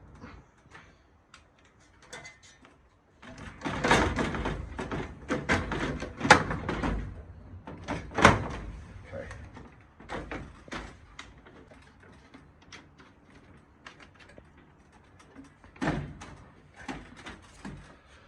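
Nearby clunks, scrapes and knocks as a pet door insert panel is worked into a patio sliding door frame, in irregular bursts with quieter handling between.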